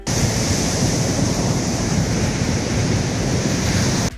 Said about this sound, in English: Huge wave causes panic as people flee for safety.